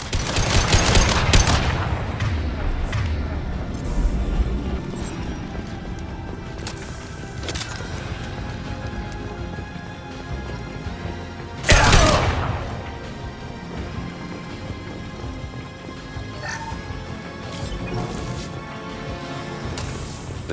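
Rapid gunfire rattles through a Mass Effect 2 firefight, with bursts of close automatic shots, heavy impacts and a loud crash near the middle, continuing at a steady intensity over twenty seconds with no voices.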